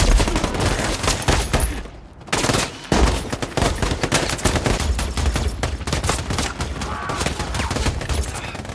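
Intense, sustained gunfire from a war film: dense overlapping rifle and machine-gun bursts fill the scene almost without pause, loud and close, with only a brief lull near the start.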